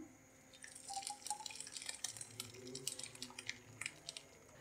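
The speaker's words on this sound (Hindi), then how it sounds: "उसमें छान लेंगे सिरप को हम।" Strawberry syrup made from softened strawberries being strained into a bowl, a quick run of small drips and liquid patters, faint and close.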